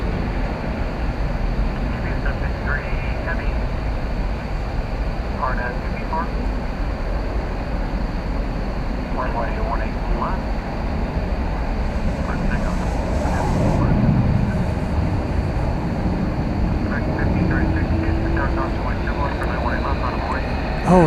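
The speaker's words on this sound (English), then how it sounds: "we've got our MD-11 going off now" An MD-11 jet taking off at Dallas/Fort Worth airport makes a steady, broad engine roar that swells slightly midway through, with occasional voices talking over it.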